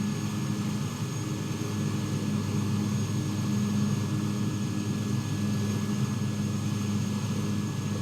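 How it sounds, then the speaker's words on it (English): An airplane taxis on a runway nearby at a busy airport, giving off a steady, loud engine drone with a constant whine that holds unchanged throughout. "Oh, I got a plane behind me."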